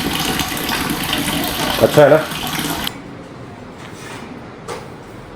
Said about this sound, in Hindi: तो ये भर रही है मेरी बाल्टी मेरे कैंप में